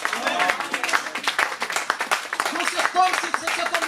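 A congregation claps and cheers in praise during a French-language church service, the steady applause mixed with voices calling out.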